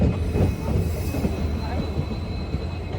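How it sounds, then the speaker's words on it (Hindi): A train pulls into a railway station, a steady loud rumble of wheels and rail noise with faint squealing, broad and continuous throughout, with some voices in the background. "और हम लोग पहुंच गए रेलवे स्टेशन, भागो। और ट्रेन आ गई है दोस्तों।"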